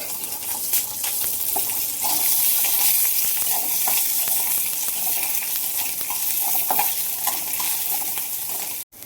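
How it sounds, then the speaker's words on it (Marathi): Peeled garlic fries in hot oil in a pan, giving a loud, steady sizzle and crackle with scraping stirs throughout, cut off abruptly at the end; no voices. "लसूण आपण चांगलं भाजून घ्यायचं."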